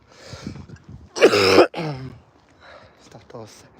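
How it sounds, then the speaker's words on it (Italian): A man with bronchitis coughs and clears his throat in one loud, harsh burst during a mountain hike, with quiet speech before and after. "Scusate per questa tosse"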